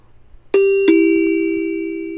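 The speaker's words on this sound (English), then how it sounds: "Then you get the ding dong." A two-note ding-dong chime effect from the film The Net: a bright first strike followed closely by a second, lower tone that rings on and slowly fades, alone over faint background.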